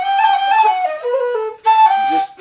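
A low whistle plays a slow, breathy melodic phrase of sustained notes stepping up and down, close and clear, with a brief pause before a final higher note and no talk.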